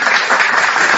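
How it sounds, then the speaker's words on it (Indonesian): Loud, dense crowd applause in a short, continuous burst of clapping with no voices on top. "tepuk tangan dulu."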